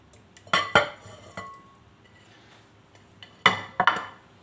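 Halved potatoes are stirred into a chermoula marinade in a dish, giving two pairs of sharp clinks and scrapes of utensil against the dish, separated by quiet pauses.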